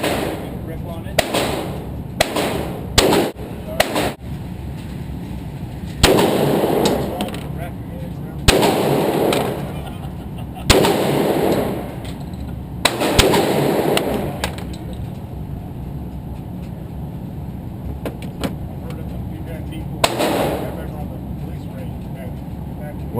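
A Glock 29 pistol fired at an outdoor shooting range, several sharp shots with reverberant tails spread across the clip, some close together, with people talking throughout.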